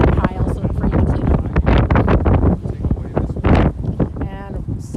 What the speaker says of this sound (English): It's definitely really windy here today.